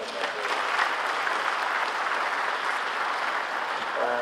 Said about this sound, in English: So can we give me another hand of applause?